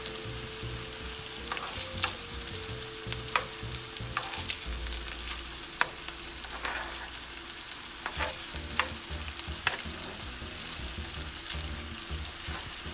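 Meatballs sizzle and fry steadily in a pan while a metal spoon scrapes and clinks as they are stirred and turned over, close and continuous, no talk.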